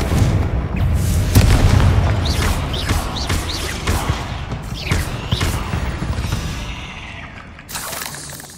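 Confringo blasting spells detonate in Hogwarts Legacy gameplay, a string of heavy booming explosions with crackling debris over several seconds, tapering off toward the end, no talk over it.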